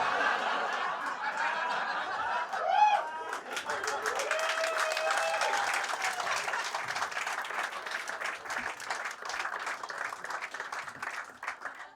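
Comedy club audience at a stand-up show giving a brief, scattered round of applause with some chuckles, steady through the middle and thinning out toward the end, with murmuring under it.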